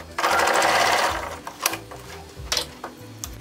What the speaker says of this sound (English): Back stitch at the start. Back stitch at the end also.